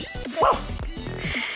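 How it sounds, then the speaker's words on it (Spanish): A pet dog named Alma gives a few quick yipping barks close by, short sharp bursts at a moderate loudness. "Los perros ladran porque sí"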